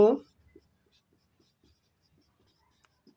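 A pen writes on paper during a maths lesson, making faint, sparse scratches and taps. A brief spoken syllable comes at the start, then the room is near silent.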